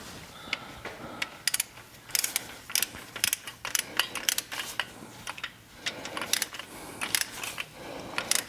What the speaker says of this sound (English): Number 6 getting torqued.